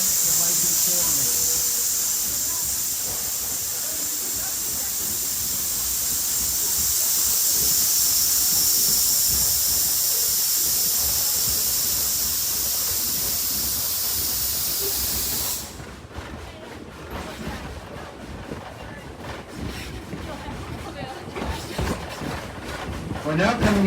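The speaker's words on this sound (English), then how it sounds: "venting the steam out of the steam drum to clear the remains of any sediment that might be forming" Steam locomotive D&LN #7 at the Henry Ford Museum vents steam from its steam drum in a loud, steady, roaring hiss that lasts about fifteen seconds, then cuts off abruptly and leaves quieter rumbling background noise.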